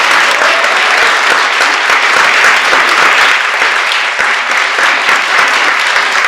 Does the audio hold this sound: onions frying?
no